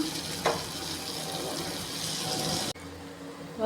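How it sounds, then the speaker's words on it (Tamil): Paniyaram batter poured into a hot oiled pan gives a continuous hissing, watery sizzle that stops abruptly near the end. "இப்போ மாவை நம்ம கொஞ்சம் கொஞ்சமாக ஊற்றிக்கலாம்."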